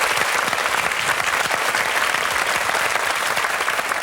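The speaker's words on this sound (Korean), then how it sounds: "자, 여러분 큰 박수 보내주십시오." Studio audience on a Korean KBS military variety show about an Air Force training command claps steadily, a dense, loud wash of applause with no talk over it.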